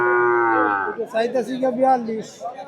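A calf at a busy cattle market moos loudly and close, one long drawn-out call that breaks into a wavering, rough bleat lasting over two seconds.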